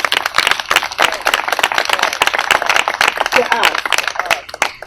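A crowd of current and former residents at a community event gives a lively round of applause, loud sharp hand claps densely packed and close by, with some voices mixed in.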